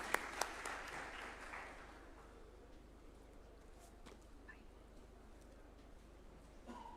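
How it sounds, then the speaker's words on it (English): Guests at a judges' swearing-in ceremony at State House, Nairobi, applaud as a judge approaches, quiet and distant clapping that is strongest in the first couple of seconds and then thins out into a hushed room. "A warm clap for her as she approaches the swearing-in arena."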